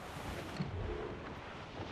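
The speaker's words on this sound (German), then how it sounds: "Der Wind verheißt Ärger, Captain Cormack" Steady wind gusting over open sea in Assassin's Creed Rogue, a continuous broad rushing hiss with faint wave wash, moderately loud and unbroken throughout.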